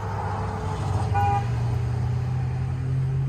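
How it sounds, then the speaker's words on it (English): A short car horn toot sounds briefly over a steady low rumble of traffic and engine noise outdoors. "People honking outside."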